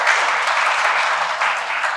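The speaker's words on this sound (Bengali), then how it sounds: "জোরে হাততালি দিতে পারি।" An audience at a talk clapping loudly, a dense continuous burst of applause filling the room for about two seconds with no voices.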